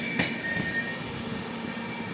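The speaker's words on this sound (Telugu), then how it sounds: "అంత దూరం వెళ్ళి ఆగుద్ది ట్రైన్," Kirandul–Visakhapatnam express pulling into S.Kota station, a steady rumbling roll of wheels on track with a thin metallic squeal, fairly close and continuous.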